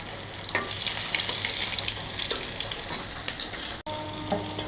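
Food frying in hot oil in a pan gives a steady, close crackling sizzle throughout, with a brief drop near the end.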